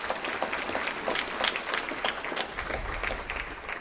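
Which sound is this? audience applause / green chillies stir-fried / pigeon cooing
audience applause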